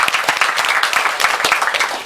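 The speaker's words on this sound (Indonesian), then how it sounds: "Tepuk tangan buat kita semua." Loud, close applause from an audience at a union gathering, many hands clapping in a brisk, dense patter that carries steadily from start to finish.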